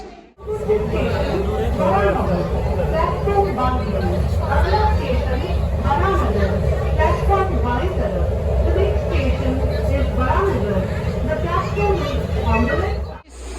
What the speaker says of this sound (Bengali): মেট্রো স্টেশনে আছি, চলো।